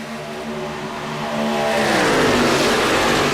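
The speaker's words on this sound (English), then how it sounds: "Listen to those trucks rock, rolling, rumble into the corner." NASCAR Truck Series race trucks at Michigan International roar into a corner, a loud engine rumble building and swelling over a few seconds as the pack closes in, with no talk.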